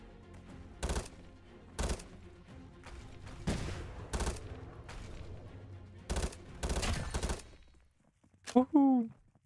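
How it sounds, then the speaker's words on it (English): Repeated explosive gunfire-like blasts burst in a video game during grenade spam, several sharp loud bangs spaced irregularly over a rumbling bed, ending with a brief voice. "Oh, cringe grenade spam"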